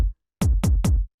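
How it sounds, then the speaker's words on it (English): An unprocessed, punchy, hard-hitting techno kick drum: one hit, a short gap, then three quick hits in a row, each a tight low thump with a crisp attack, dry and alone. "it's just a very punchy, hard-hitting, straightforward kick."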